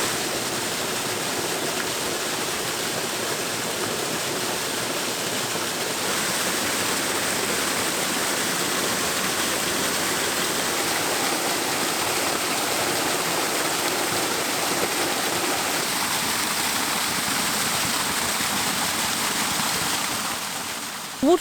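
Pwll-y-Wrach waterfall in Wales pours in a steady, loud broadband rush of falling water, close and constant throughout, with no voices over it.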